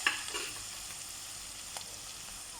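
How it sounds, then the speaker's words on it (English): Dry fish frying in a pan while being stirred: a continuous close hiss of sizzling oil, with soft scraping touches from the stirring, and no one talking. "You see it's frying up nicely. Just give it a stir."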